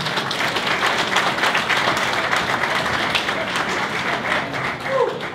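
Sustained applause for the winning anglers at an international fishing competition, the Grauvell Cup Grand Prix in Poland, a dense crowd of steady clapping filling several seconds without speech.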